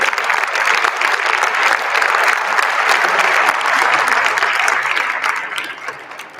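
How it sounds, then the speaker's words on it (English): A hall full of attendees at the WBC boxing convention gives a sustained round of applause, dense and even clapping that holds for several seconds before thinning out and tapering off. "give a round of applause to the most loyal, most incredible, passionate man in Boxeo"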